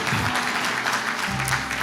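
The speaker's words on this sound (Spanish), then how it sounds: "hay más mujeres aplaudiendo que hombres" An audience at a church sermon, with women clapping more than men, breaks into dense applause that stays steady and loud for the whole short stretch, with no talk heard.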